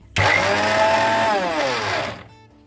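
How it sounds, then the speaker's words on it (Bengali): Electric blender whirring loudly as it purees a chicken mixture into a smooth paste, a steady motor drone with rising pitch that starts abruptly and winds down near the end. "এখন আমি এটাকে ভালো করে ব্লেন্ড করে নিচ্ছি"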